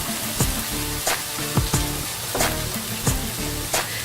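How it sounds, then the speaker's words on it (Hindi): Boiled chana dal goes into browned onions frying in a pan, giving a loud, steady sizzle broken by regular scraping stirs about every half second. "अब मैं इसमें डालूंगी वो बॉईल की हुई दाल।"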